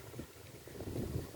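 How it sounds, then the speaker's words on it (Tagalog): Blustery wind buffets the microphone in low, rumbling gusts on a farm, rising slightly toward the end, with no voices. "Malakas ang hangin yun."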